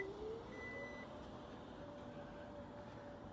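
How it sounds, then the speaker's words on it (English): Kia Stinger GT2 power lift gate closing with a few steady electronic beeps and a faint motor drone beneath. "To close the lift gate, you just push this button"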